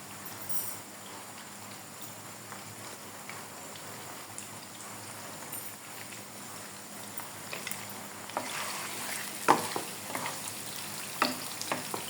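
Whole potato pieces frying in a pan for a quick khichuri, a soft steady sizzle with faint crackles and a few stirring clinks toward the end, fairly quiet throughout.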